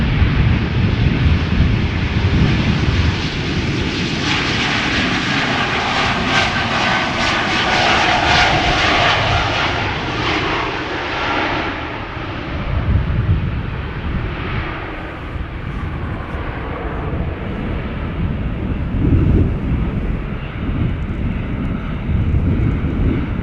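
A one-year-old KLM Embraer E2 jet, first flown January 2023, takes off from Schiphol bound for Stavanger, its engines roaring loud and steady for over twenty seconds before slowly easing as it climbs away.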